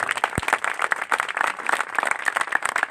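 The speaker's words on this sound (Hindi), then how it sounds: "हम ज़ोरदार उनके लिए तालियां बजाएंगे" Seated gathering in a church applauds a donation, a brisk, steady patter of many hands clapping at moderate volume with one sharp thump near the start.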